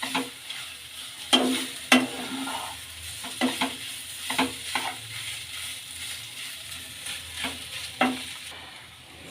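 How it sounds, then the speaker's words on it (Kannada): Grated potato frying in oil, a soft steady sizzle broken by repeated scraping and clattering strokes of a spoon stirring in the pan, close up with no talking. "ಈಗ ತುರ್ಕೊಂಡಿರೋಂಥ ಆಲೂಗಡ್ಡೆ ಸೇರಿಸ್ಕೊಳ್ಳೋಣ. ಆಲೂಗಡ್ಡೆ ಚೆನ್ನಾಗಿ ಕುಕ್ಕಾಗಬೇಕು ಎಣ್ಣೆಯಲ್ಲಿ."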